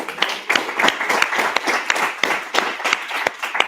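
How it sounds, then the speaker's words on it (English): A small audience at a course pitch event applauds a judge, scattered hand claps in uneven bursts, fairly close and moderately loud, with no talk over them. "So give him a round of applause."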